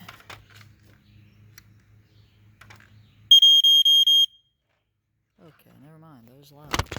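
A vintage Sears smoke alarm gives a single shrill, steady beep lasting about a second, loud against a quiet room with faint low hum and brief talk afterward.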